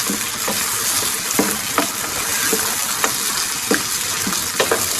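Mutton karahi sizzling steadily in a pan as it is stirred and mixed, with scattered scraping clicks of the spoon over a constant frying hiss, close and moderately loud, no talking.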